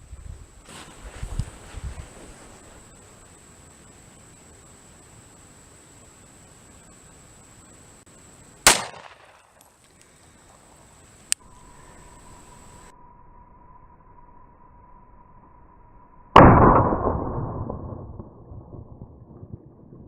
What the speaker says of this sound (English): I'll shoot from the kneeling position so I can get the firearm in front of the camera